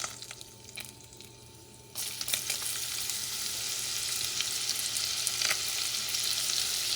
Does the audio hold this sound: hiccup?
no